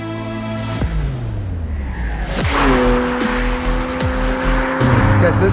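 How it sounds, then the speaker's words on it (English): A McLaren 600LT Spider driving on the Goodwood circuit, its engine note rising and dropping through rapid gear changes, with a loud, close exhaust roar and some tire noise. "getting in the car in the 600LT Spider"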